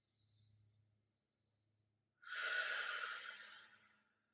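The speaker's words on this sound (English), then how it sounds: "now take a big deep breath" A single big, deep breath drawn in and let out during a full-body stretch while lying flat with legs extended and arms overhead; a soft, close, airy rush lasting about two seconds after a quiet pause.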